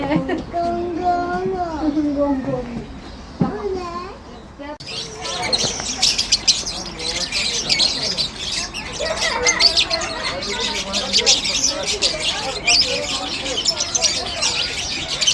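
Birds at Bursa zoo chirp, tweet and squawk in bursts, first under voices, then as a busy, fairly close chorus of calls with some talk still in the background.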